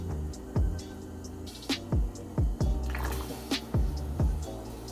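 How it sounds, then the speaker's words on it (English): Frozen egg dumplings dropped one by one into a pot of boiling water, a string of soft plops and splashes over a continuous bubbling simmer, close and moderately quiet. "After I get the water boiling in the pot, I add these pre-made frozen egg dumplings just in."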